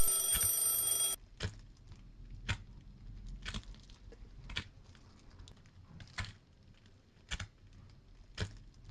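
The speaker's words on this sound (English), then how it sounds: "After the alarm clock ringing, he would sit up on his bed" A bright electronic alarm rings for about a second, then stops, leaving soft, evenly spaced ticks or taps in a quiet room.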